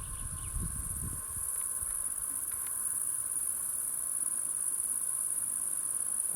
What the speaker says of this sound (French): On peut entendre aussi le bruit des orthoptères.